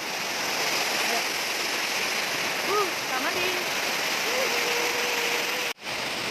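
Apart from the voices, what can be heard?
waterfall rushing water at a curug near Bogor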